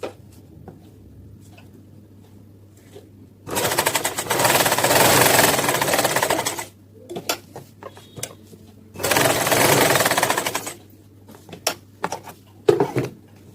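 A sewing machine stitches a kurta neckline in two long bursts of rapid, dense whirring, separated by quiet pauses with small clicks and handling taps, close by and without talk.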